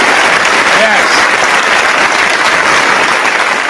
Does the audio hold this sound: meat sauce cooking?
no